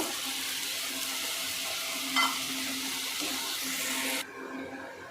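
Strained soaked tamarind pulp sizzles steadily in a frying pan, a continuous close hiss with a brief clink partway through before the sizzle drops quieter near the end.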